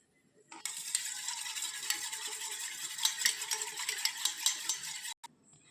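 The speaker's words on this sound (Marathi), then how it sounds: "घ्या मीठ टाकून घेऊ दोन्ही पण छान फेटून घेऊ" Eggs with salt whisked briskly in a bowl for an omelette: a steady, fast scraping and rattling lasting several seconds, fairly faint, then stopping abruptly.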